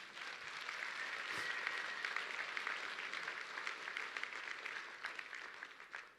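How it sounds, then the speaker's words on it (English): Audience applause at a talk, a steady wash of many hands clapping, dense and even, heard fairly faint and distant for about six seconds without any voices. "Give him another round of applause."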